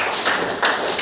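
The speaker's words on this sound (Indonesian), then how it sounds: "Tepuk 3 kali." Hands clap a few times in quick succession indoors, each clap a short, bright slap with no voices alongside.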